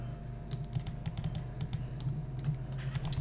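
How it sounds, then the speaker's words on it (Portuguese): Computer keyboard keys clatter in short irregular bursts during a CS:GO match, close and fairly quiet over a steady low hum, with no talking. "Vocês às vezes devem ouvir o teclado."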